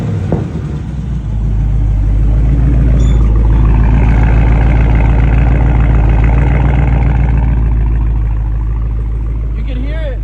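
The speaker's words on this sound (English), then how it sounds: "when he starts it up, you could hear like a little squeak from the exhaust" A Dodge Charger Scat Pack with the 392 V8 starts up and settles into a loud, steady idle, with a small squeak from the exhaust buried in the deep rumble.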